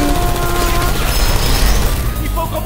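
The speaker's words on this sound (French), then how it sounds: "J'ai entendu des coups de feu !" Rapid bursts of gunfire in the video game Portal 2, loud and dense throughout, with a voice talking over it.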